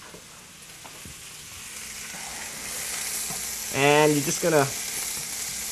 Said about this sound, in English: I'm simply going to take our chopped spinach, and this should sizzle.